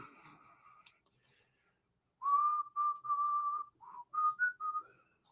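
A person whistles a short tune alone, a few clear sustained notes in a mostly steady line with brief gaps, close and fairly loud after a quieter start.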